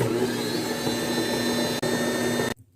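Electric stand mixer whirring steadily as it beats sourdough gingerbread cookie dough spiced with nutmeg and cardamom, a loud continuous motor drone alone that cuts off abruptly near the end.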